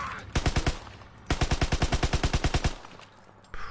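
Player's weapon in a military video game fires two long bursts of rapid, evenly spaced shots, loud and close, separated by a short pause.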